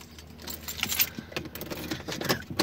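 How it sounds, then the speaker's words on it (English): A bunch of car keys jangles close by, giving a burst of uneven metallic clinks and rattles that lasts nearly three seconds. "Well, I got my keys."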